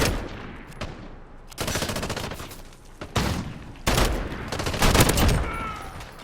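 FAL rifle in Modern Warfare firing in rapid full-auto bursts, loud sharp cracks in several strings separated by short pauses, with distant gunfire around.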